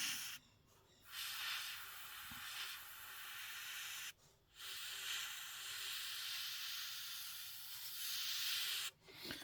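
Airbrush spraying paint onto a 1/48 scale Tamiya F-14A Tomcat model, a close, steady hiss of air and paint running in three long bursts separated by short pauses.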